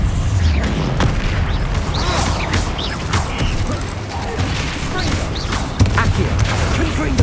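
Spell explosions from Bombarda and other combat magic in Hogwarts Legacy, a loud, dense stretch of repeated booming blasts, bursts and crashes with clattering debris and no pauses.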